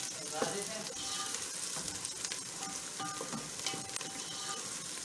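Green chillies are stirred into a potato and pea bharta in a hot pan, giving a steady close sizzle with scattered scraping and clinking of a spoon throughout.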